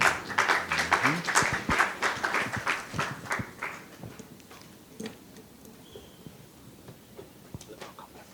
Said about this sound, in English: Give them a round of applause as they go up.